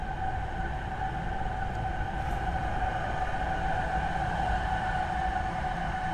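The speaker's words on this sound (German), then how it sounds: "Aber lassen wir erstmal gerade den Zug vorbeifahren hier." A train rolls past steadily at moderate distance, a sustained rumble and hum with a faint tonal whine, heard outdoors alongside a cycling route with no talking.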